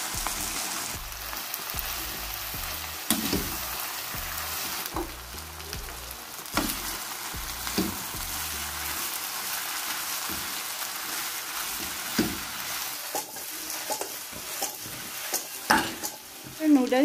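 Shredded cabbage being stir-fried in a pan for Canton noodles, a continuous sizzle broken by repeated scraping stirs and tossing knocks, fairly close, with no talking.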